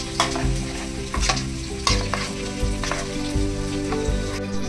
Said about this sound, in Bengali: ফুলকপিগুলো এর মধ্যে মিশিয়ে দেবো, এই মশলাটা মিশ্রণটার মধ্যে মিশিয়ে দেবো